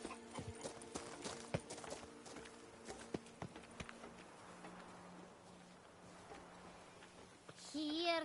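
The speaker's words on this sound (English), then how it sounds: "Even a horse drops if you ride it at a constant gallop." Horse hooves clip-clop at a steady gallop in The Witcher 3, faint and fairly distant, with a brief higher-pitched sound near the end.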